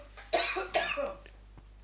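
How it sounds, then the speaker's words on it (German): A person coughs twice in quick succession, two harsh bursts close to the mic, then a faint throat sound trails off in an otherwise quiet room. "Wenn du husten musst, dann musst du husten."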